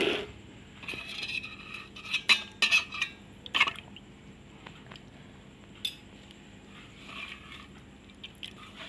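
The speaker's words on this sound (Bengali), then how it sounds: "2 চামচ, 3 চামচ দিয়ে এটা আমি সুন্দর করে নেড়ে নেব" A spoon stirring bael sherbet in a vessel, a cluster of quick clinks and scrapes early on, then sparser taps and a soft swirling, close and fairly quiet.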